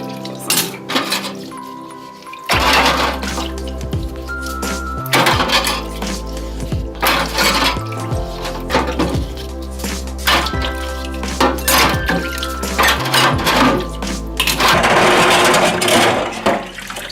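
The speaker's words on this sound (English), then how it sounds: "I can just pick it up with one hand and put it all in my cutlery drainer." Metal cutlery clinks and clatters against a drainer, a series of sharp rattling strikes with a low steady hum beneath.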